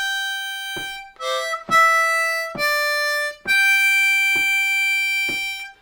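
A G harmonica plays a slow phrase from Auld Lang Syne, starting high and stepping down through several clear sustained single notes, alongside soft tapping beats, close and unaccompanied.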